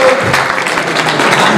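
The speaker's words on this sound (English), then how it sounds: "let's have a big round of applause for these two guys" Audience applause at a heavyweight boxing title event, a dense wash of clapping and cheering from a crowd, loud and sustained through the moment.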